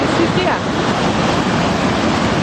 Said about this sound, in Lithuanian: Noriu parodyti, kaip išsiveržė krioklys, pavasarinis potvynis.